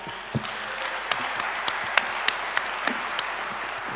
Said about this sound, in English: Don't you think that deserves a very big clap?